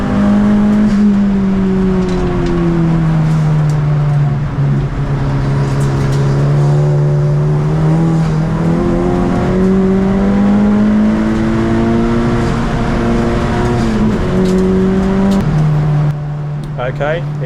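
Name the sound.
race cars accelerating at a safety car restart, Brands Hatch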